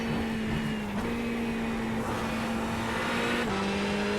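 Ferrari GT3 race car engine accelerating around Virginia International Raceway, a close, loud steady drone that climbs through the gears with two short shift dips, uninterrupted by any voice.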